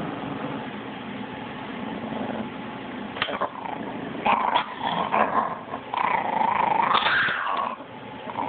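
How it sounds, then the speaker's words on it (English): A small Maltese dog growls low and steadily, breaking into a few rough snarls and short barks up close, over a faint engine-like hum. "He's barking at my finger."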